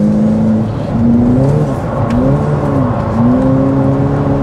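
A turbocharged Ferrari F8 Tributo engine revs steadily and loudly during drifting, its pitch rising and falling in smooth sweeps as the throttle changes, with no voices.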